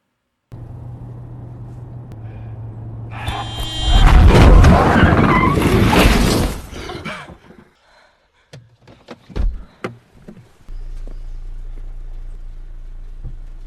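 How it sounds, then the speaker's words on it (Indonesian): A car skids with a loud tire screech and slams into another car, the harsh crash burst followed by scattered clanks and debris, then a quieter idling hum. "setelah tidak sengaja menabrak mobil itu, Adrian dan Laura"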